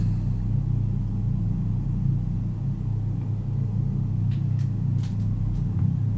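A Bell 407 helicopter in Microsoft Flight Simulator 2020 drones with a steady, loud low rumble of turbine and rotor, with a few faint higher clicks.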